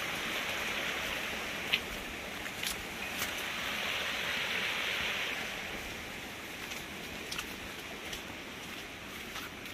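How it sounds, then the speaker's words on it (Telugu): Water rushes down the rocks at Palakonda waterfall in a Kadapa forest, a broad steady roar with a few faint clicks and knocks on top. "సౌండ్ భలే ఉందిరా, కింద నీళ్లు పోయే శబ్దం సూపర్ వస్తుంది"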